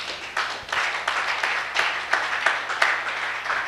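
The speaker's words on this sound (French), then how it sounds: "Acclamons cette parole." A church congregation applauds a sermon in sustained rhythmic clapping that swells in repeated waves, loud and close, with no speech over it.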